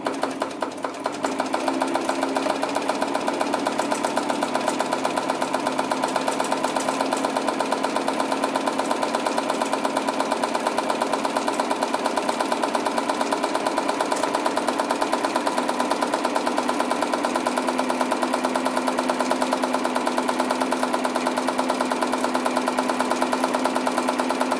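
A PFAFF 92 sewing machine runs continuously while sewing a wide zigzag stitch, a dense, fast mechanical whirring and clatter that stays close, loud and steady for the whole stretch with no voices.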